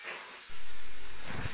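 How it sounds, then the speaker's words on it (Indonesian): A welder joins the corners of a steel frame for a minimalist fence, starting abruptly after a short quiet moment and then holding a loud, steady, close hiss. "Dan kita las dulu setiap sudutnya"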